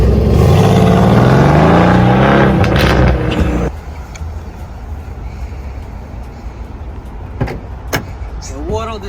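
A Nissan GT-R engine drones and rises loudly from inside the car at the start of a road trip, then settles into quieter road rumble with a few clicks and brief voices.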